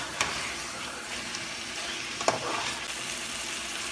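Masala fries in oil for a chicken curry, a low steady sizzle with a few light clinks and stirring scrapes and no voices.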